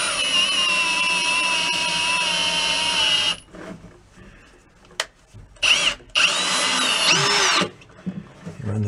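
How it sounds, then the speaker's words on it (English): A power drill runs a bit into the threaded holes of a rusted exhaust manifold on a Ford Econoline van: a loud, close, high whine for about three seconds, then several shorter bursts separated by pauses. "run the drill in"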